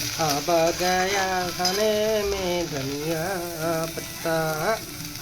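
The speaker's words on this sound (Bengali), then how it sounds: "এটাকে ভালো করে কষিয়ে নেবো আলুটাকে যাতে করে ভেতরে সবকিছু দিয়ে দেবো" Potatoes sauté and sizzle in a pan with a steady frying crackle while a voice talks over the cooking.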